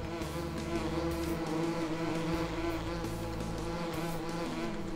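Swarming bees drone steadily around hives in the Farming Simulator 2017 farming game, a dense continuous buzz layered over a low hum for the whole stretch, fairly loud and with no talk.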